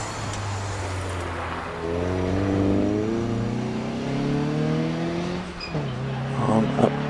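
A race car accelerating up the Prescott hillclimb course, its engine revving and climbing in pitch through the gears, fairly loud and then fading, under a commentator's voice.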